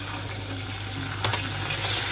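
Butter and a little water stirred together in a pan over low heat, a soft steady sizzle with faint scraping strokes partway through.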